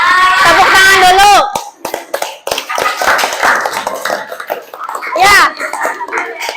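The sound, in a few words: children clapping hands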